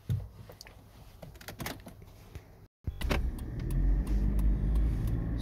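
A 2005 Hyundai Terracan on a road test after a repair for being stuck in third gear in limp mode: cabin clicks and rustles, then after a brief cut a low engine and road rumble builds steadily as it drives.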